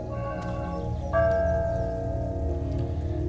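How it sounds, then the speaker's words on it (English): A chime rings out in a video game, a bright sustained metallic tone entering partway through over a low rumbling ambient bed, lingering to the end. "Now we'll move up with the boy and interact with that chime."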